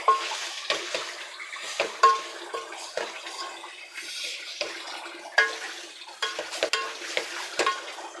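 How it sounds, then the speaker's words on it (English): A spoon stirs spaghetti bolognese in a pot with soft, steady scraping and occasional sharper knocks against the metal, close and moderately quiet with a light simmering hiss underneath. "Continue the stir."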